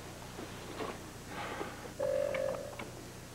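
A single short electronic phone tone rings out clearly over a quiet, hushed background, preceded by faint indistinct rustling.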